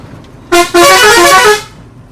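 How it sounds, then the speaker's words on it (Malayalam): A vehicle on a winding road near Thodupuzha sounds its horn loudly and close by: a short blast, a brief gap, then a longer sustained honk before it falls silent. "കുറെ ഹോൺ ഉള്ളതിന്റെ അഹങ്കാരം ഞങ്ങൾക്ക്. മാറ്റി മാറ്റി അടി. ഓരോ വളവും മാറ്റി മാറ്റി അടി."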